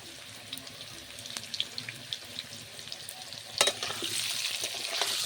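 Potatoes frying in a pan until reddish for a country chicken curry, giving a soft steady sizzle with light scattered crackles and stirring, then a louder rush of sizzle near the end.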